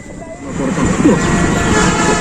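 A train engine running on the way to Gadkhali, a loud low rumbling drone that builds in the first second and then holds steady, close by.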